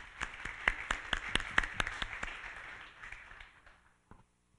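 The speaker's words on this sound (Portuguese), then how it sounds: "Uma salva de palmas a todos os nossos colegas." Scattered applause at a Brazilian university council meeting, a few distinct, fairly faint handclaps at an irregular rhythm that soon fade to near silence.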